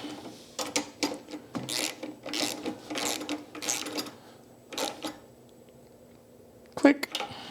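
A non-powered hand ratchet tightens bolts on a John Deere JS60 push mower, giving close, rhythmic bursts of clicking with short pauses between strokes.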